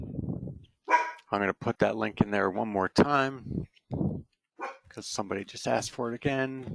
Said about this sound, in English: Sorry about my dog, folks.